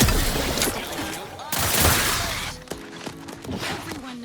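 Sci-fi gunfire in the video game Outer Worlds 2 rattles out in dense bursts, a loud volley at the start and another around the middle, followed by scattered shots and ringing tones, with faint voices mixed in.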